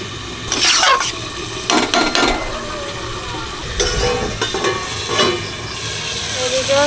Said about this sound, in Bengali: চিংড়ি মাছে সবজি কষানো হয়ে গেছে অল্প জল দেবো বেশি জল দেবো না এক বাটি জল দিচ্ছি